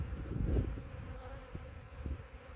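A swarm of honey bees forms a steady, faint buzzing hum with soft rustling thumps underneath, continuous and fairly close throughout.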